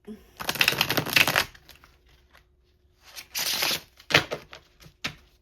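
Slippery, thin tarot cards riffle-shuffled in several bursts, a crisp flutter, then shorter snaps and taps with pauses between.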